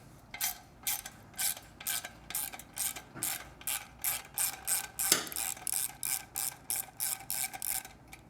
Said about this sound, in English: You get your 10mm socket and loosen up that clamp.